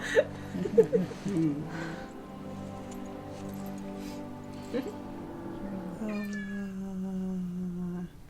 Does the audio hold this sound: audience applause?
no